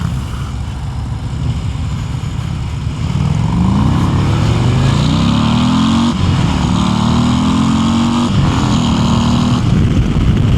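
A 2026 Harley-Davidson Road Glide CVO ST touring bagger is ridden hard, its engine rumbling loudly then accelerating through rising revs and gear changes under steady wind rush, close to the rider with no talking.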